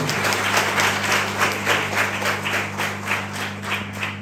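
Audience applause rings out at a school gathering hosted for a visiting RTI commissioner, a dense, steady stretch of many hands clapping with a rhythmic swell, carried over a low electrical hum.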